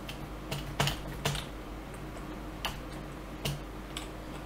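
Computer keyboard typing during co-op play of The Forest: a handful of sparse, irregular key clicks, some sharper than others, over a low steady background hum.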